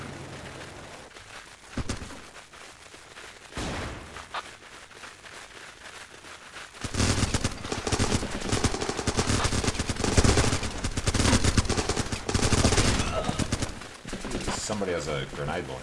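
Rifle and machine-gun fire rattles through a Running with Rifles battle, sparse shots at first, then dense sustained bursts of automatic fire, fairly loud, with occasional voices talking over the shooting.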